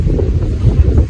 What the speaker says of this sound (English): It's a bit windy down here today